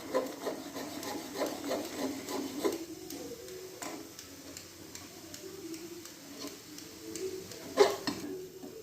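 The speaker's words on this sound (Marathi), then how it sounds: "असंच आपल्याला ढवळत राहायचं" Basundi milk stirred in a pan with a spoon, a steady soft scraping and rubbing against the metal that carries on continuously at low volume, with occasional light clinks.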